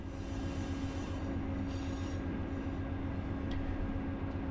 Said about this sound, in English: So I might want to keep the train stretched out while I brake.